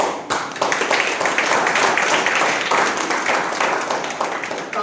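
An audience claps through a live product presentation, a dense, steady patter of many hands lasting about five seconds, fairly loud and close.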